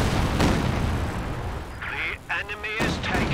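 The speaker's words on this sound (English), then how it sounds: "I'm guessing this is with a creeping barrage." Katyusha rocket artillery fires a creeping barrage in the WWII strategy game Company of Heroes 2, with booming blasts and whooshing rocket salvos layered over battle noise and a voice.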